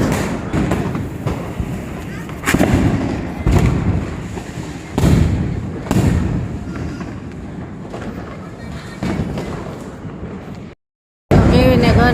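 Diwali firecrackers burst repeatedly in loud, booming thumps spaced every second or two, with crowd chatter and voices throughout, then a brief silence before noise resumes.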